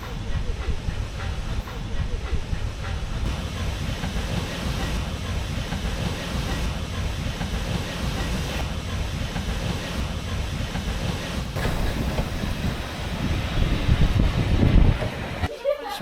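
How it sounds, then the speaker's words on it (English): A steady, loud hiss and rumble heard aboard a steam train running continuously toward Keighley, with rail noise building slightly toward the end; no clear talk. "on the steam train, heading back to Keighley"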